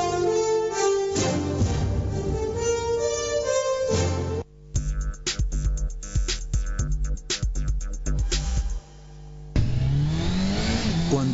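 Car engine revving and accelerating hard in a TV advert, loud and close, mixed with music at first, then a run of sharp bursts and a renewed roaring surge near the end.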